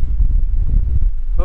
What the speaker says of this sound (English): it's so windy at the moment